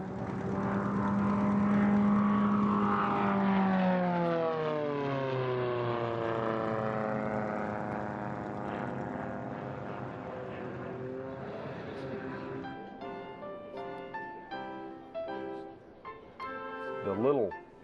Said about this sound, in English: The little interstate cadet that you see is flown by Kent Peach